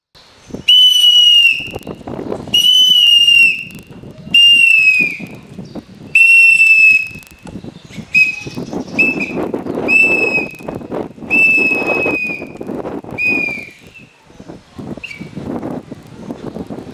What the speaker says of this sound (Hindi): जब तक हमारा सीटी बजेगा तब तक हमारा ड्यूटी चलेगा, इसलिए हमारा सीटी बजता रहेगा